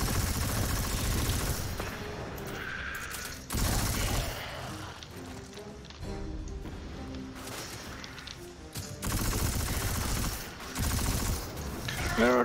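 Heavy gunfire in Destiny 2, loud dense volleys of rapid shots in several bursts separated by short lulls, with mechanical clatter and tonal game effects in between.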